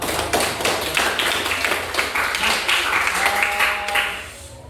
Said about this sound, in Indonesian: Tepuk tangan lah untuk kalian semua